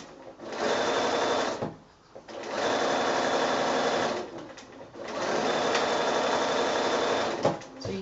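A sewing machine stitches quilting fabric for a child's bedding set, three long steady bursts of loud, close, rapid whirring, separated by short pauses.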